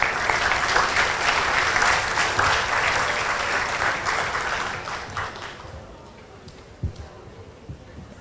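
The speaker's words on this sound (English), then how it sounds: "Please give a round of applause." A lecture audience at a Nobel laureate's economics keynote gives a dense, sustained round of applause that holds steady for about five seconds, then thins out and fades to a few scattered claps.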